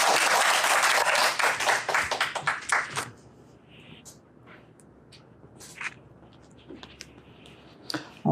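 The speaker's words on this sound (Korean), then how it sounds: "큰 박수로 화답해 주시기 바랍니다" Audience applause at a book forum for real estate agents, loud dense clapping for about three seconds that then breaks off into scattered claps and small knocks.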